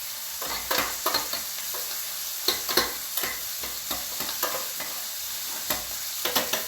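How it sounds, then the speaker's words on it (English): Onions stirred as they fry in a pan beside a pork shoulder blade steak, a steady sizzle broken by repeated scraping clinks of the utensil, close and fairly loud, with no talking. "So let's stir the onions"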